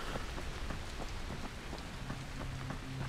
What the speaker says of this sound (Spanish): Mola la lluvia, eh.